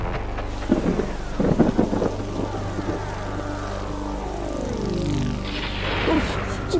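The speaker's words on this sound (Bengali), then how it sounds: "কি বাজ পড়ছে রে বাবা" Cartoon thunder and rain: a steady wash of rainfall with a deep rumbling crack of thunder, overlaid by bursts of voices and a descending musical tone.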